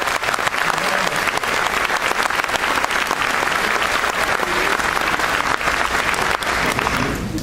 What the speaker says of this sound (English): Let's give him a round of applause for putting some things together.